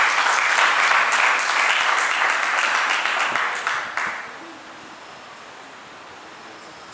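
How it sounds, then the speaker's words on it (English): Audience applause at a send-off ceremony for an outgoing Marie Stopes country director, a dense wash of clapping for about four seconds that fades and thins into quiet room tone. "We need to clap for this, please."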